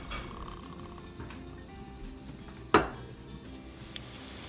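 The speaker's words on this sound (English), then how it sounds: "So I will brown the onion and wait till they get brown" Onion browns in vegetable oil in a pot, giving a faint, steady sizzle with a sharp metallic clink of a utensil against the pot partway through.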